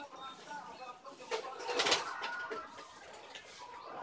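Young red racing pigeon squabs cooing softly in a loft, a few faint, low coos under someone talking nearby.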